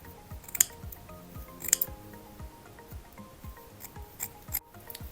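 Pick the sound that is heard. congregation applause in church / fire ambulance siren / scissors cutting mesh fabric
scissors cutting mesh fabric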